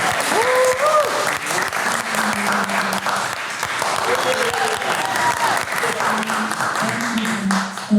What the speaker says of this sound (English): Can we all quickly just give a big round of applause for this young gentleman